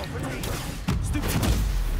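A Confringo blasting spell explodes in the Hogwarts Legacy video game, a sudden heavy boom that lands about a second in and then rumbles on at a loud, steady level.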